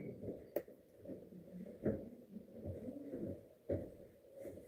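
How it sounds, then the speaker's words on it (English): A pigeon or dove coos nearby in short, soft phrases repeated across the stretch, with a few sharper thumps in between and no talking. "I thought you had a bird sitting there."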